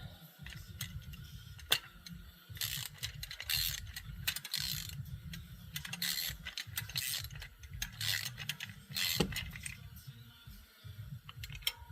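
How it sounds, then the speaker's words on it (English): Bolts on a Ski-Doo 900 ACE ice scratcher are tightened with a ratchet, quick bursts of clicking ratchet strokes repeating close by and fairly quiet, with small metallic clanks between. "I'm not going to tighten it down too much, so Dave can look at what I did"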